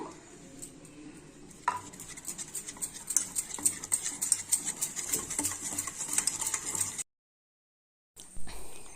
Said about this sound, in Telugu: 1 స్పూన్ కార్న్ఫ్లోర్ వేసాను. దీన్ని బాగా కలుపుకుందాం.